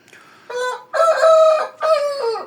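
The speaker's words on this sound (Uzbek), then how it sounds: "mana bu xo'rozim bor-ku, yaqinda oldim buni" A young rooster of Korean and Shamo cross breed crowing once nearby, a loud, harmonic call drawn out in several segments with brief breaks between them.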